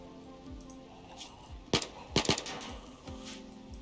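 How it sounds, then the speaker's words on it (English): Several sharp gunshots crack in quick succession in the video game Rimworld, a single shot then a tight cluster of three, set against a quiet rumbling background. "Now, why am I hearing gunshots?"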